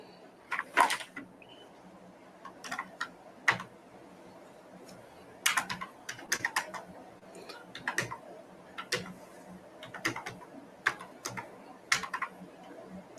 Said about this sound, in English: Who is typing it?